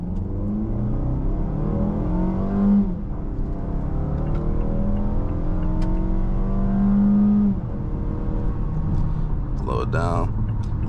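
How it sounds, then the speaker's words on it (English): A 2025 Mazda CX-5 in sport mode accelerates at full throttle, engine note climbing through rising sweeps with gear changes and tire and wind noise inside the cabin, ending in a brief rattle. "I'm just gonna floor it."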